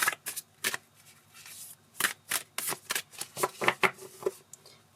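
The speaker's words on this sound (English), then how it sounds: "Let's give it a little shuffle." Oracle card deck being shuffled by hand, a close series of crisp papery riffles and slaps in uneven bursts, with no talking.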